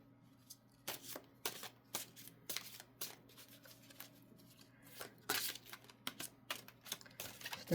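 A large tarot deck is shuffled sideways by hand in quick, crisp bursts of riffling and tapping, close and fairly quiet, with no voices.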